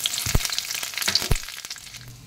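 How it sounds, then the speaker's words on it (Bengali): Whole cumin seeds and bay leaves sizzle in hot oil in a wok, a bright, crackling fry with sharp pops, heard close and alone with no talking. "তেল গরম হয়ে গেছে, দিয়ে দেবো গোটা জিরা আর তেজপাতা।"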